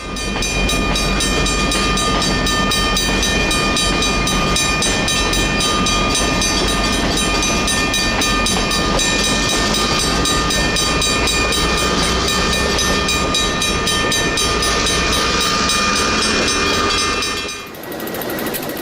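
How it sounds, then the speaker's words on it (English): The eastbound Santa Fe Golden Gate passenger train arrives at the Stockton depot behind an ABA set of F7 diesel locomotives, a loud, steady rumble of engines and rolling wheels with clickety-clack rail noise that continues before cutting off abruptly near the end. "Eastbound Golden Gate train number 60 arrives into the depot behind an ABA set of F7s"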